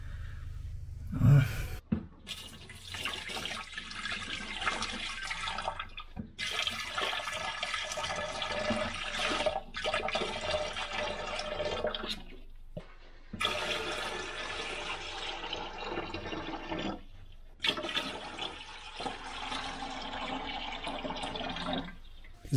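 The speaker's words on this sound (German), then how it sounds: "So, ich habe jetzt das Technikbecken unten voll gemacht mit Wasser" Water pours into the sump tank beneath a marine aquarium, a loud splashing, gushing fill that starts and stops in several bursts with brief quiet gaps between runs, close to the microphone and with no talking.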